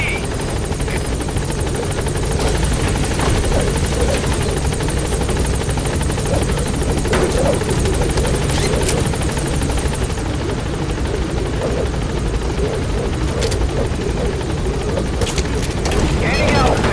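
B-Quad, a helicopter in Metal Gear Solid V, drones loudly and steadily as it flies, a dense rotor roar with rhythmic chopping that holds close and constant throughout, broken by a few sharp bangs.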